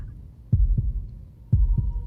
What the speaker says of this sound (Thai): หัวใจเต้นไม่เป็นจังหวะ